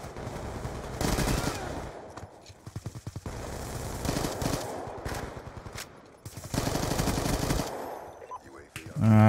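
Rapid automatic gunfire in the shooter game Black Ops 2 on PC, with dense bursts of shots repeating through the clip, loud and close, with overlapping game effects and no speech.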